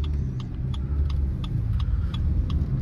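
Steady engine drone and road rumble from a Suzuki Fronx 1.2 car while driving, a continuous low hum heard from inside the cabin with faint rattling ticks on top, no speech.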